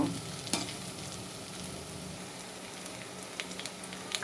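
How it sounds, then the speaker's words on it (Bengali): Whole cumin seeds and onion frying in a pan for a fish and flat-bean curry, a steady soft sizzle with a few light stirring scrapes, close and even throughout with no talking. "আস্ত জিরা দিয়ে দিলাম আস্ত জিরা দেওয়া পরে আমি আর একটু ভেজে নিব"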